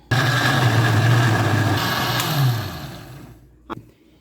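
A mixer grinder whirs loudly and steadily grinding chutney with water, its motor pitch sagging as it runs, then winds down and stops, followed by a short clunk.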